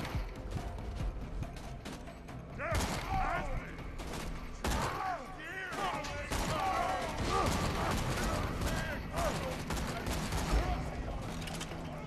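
Rapid gunfire from the shooter game Borderlands 2 crackles in dense, continuous bursts, with voices talking over the shooting throughout.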